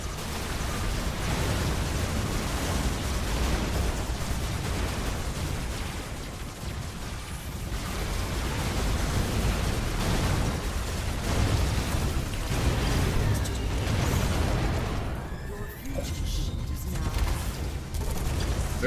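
Enemy mortar rounds landing in the robot-building combat game Robocraft, a dense, continuous barrage of blasts and rumbling impacts that never lets up.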